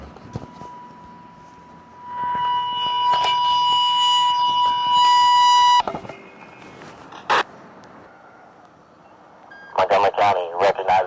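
Fire alarm tones ring out at a memorial for fallen firefighters and EMS personnel in Montgomery County, a steady loud electronic tone with beeping overtones lasting several seconds, followed by a few separate tone bursts and later a short burst of radio-like pulses.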